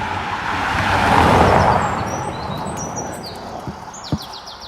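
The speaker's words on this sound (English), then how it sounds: "The cars come down here very fast, a little bit too fast in my belief." A car passes fast on a road near woods, its broad whoosh swelling and fading over a few seconds while birds chirp and tweet in the background.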